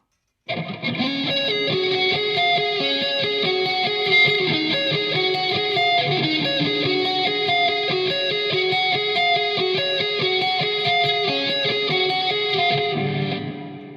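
A distorted Dean electric guitar plays sustained chords with reverb giving a washy, echoing tail, loud and continuous, ending abruptly.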